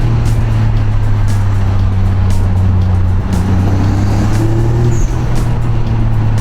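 A 1991 Mitsubishi 3000GT VR4 twin turbo with all-wheel drive accelerates hard, its engine a loud, steady, continuous drone that holds and rises slightly in pitch, heard close and uninterrupted throughout.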